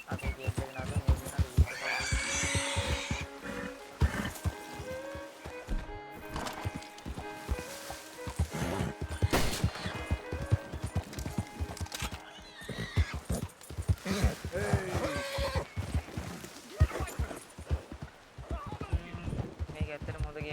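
Horse neighs and whinnies stand out, with clip-clop hooves beneath, in the Red Dead Redemption 2 video game, a riverbank setting; game music and effects play throughout and someone speaks over much of it.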